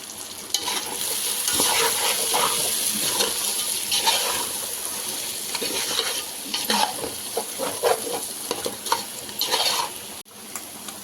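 Sambar masala fries and is stirred in a pan, giving a steady close-up sizzle with repeated scraping and clinking of a utensil against the metal throughout, briefly dropping out near the end.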